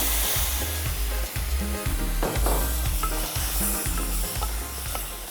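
Grated tomato pulp sizzling in a pan of chicken bhuna masala, a steady frying hiss with intermittent stirring clatter from a utensil against the pan, close and fairly loud.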